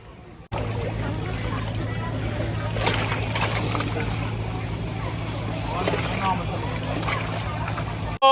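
River water sloshes and splashes against a boat on the river at Nonthaburi, a continuous churning wash with surging swells, as people talk nearby.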